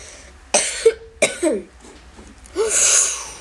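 Person coughs sharply a few times at close range, dry and abrupt, with a throat-clearing rasp near the end and no speech.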